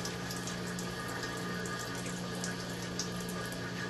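Coolant streams from an Aloris tool post coolant adapter on a lathe, a steady close hiss of flowing liquid over a constant low machine hum, with no pauses or talk.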